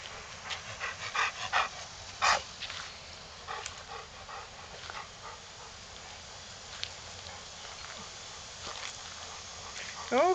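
Puppies pant quickly and shuffle around close by in a quiet room, with small whimpers, brief yips and light footsteps, and people talk softly now and then.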